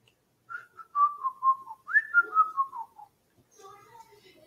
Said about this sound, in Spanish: hay alguien que silba su propia canción.